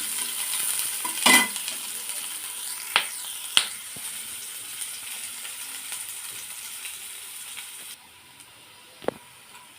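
Onion, garlic and whole spices such as cinnamon and cloves fry in oil for chana dal, a bright steady sizzle with a few clinks and scrapes of stirring, nearby and without speech.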